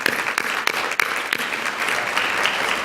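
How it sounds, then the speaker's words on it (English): A high school audience applauds honored students: a few sharp, separate claps at the start swell quickly into dense, loud, sustained clapping from the crowd. "So I think we should give them a round of applause for being here today."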